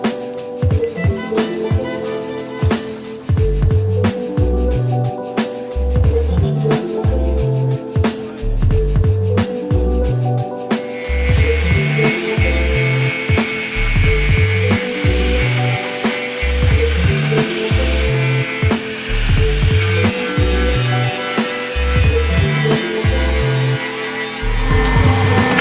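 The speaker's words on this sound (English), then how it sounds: "cutting our notches to fold the inner shell up so we can weld the rears" A power cutting tool works through the rear inner fender shell of a 2017 Subaru BRZ during a Pandem v3 rear fender install, a loud continuous grinding, ratcheting rasp that sharpens and brightens partway through the cut.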